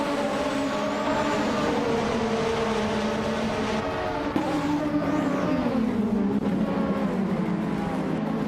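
Several vintage racing cars, led by a 1988 Ferrari F187, roar off the line at the race start in a video game, a dense layered engine drone with rising and shifting pitches, loud and continuous with no talk.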